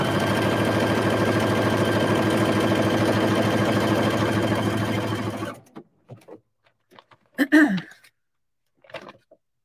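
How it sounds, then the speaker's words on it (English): A sewing machine runs a narrow satin stitch over a pink tulip applique, its dense, rapid whirring steady and fairly loud for several seconds before stopping abruptly, followed by scattered faint handling noises and brief voice sounds. "I'm using a narrow satin stitch"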